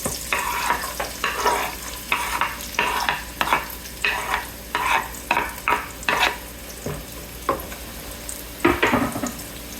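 Chopped onion fries in a couple tablespoons of hot oil for chicken taco soup, a sizzle that swells in a rhythmic series of bursts as it is stirred, with occasional utensil scrapes and no speech.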